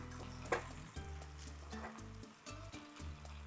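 Beef sizzles in a small frying pan on a small home stove, a faint steady crackle broken by soft clinks and stirring under low background music.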